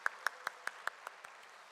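A church congregation claps for a choir of singers with disabilities during a worship service: a handful of sparse, evenly spaced claps, faint and distant, fading away over a couple of seconds.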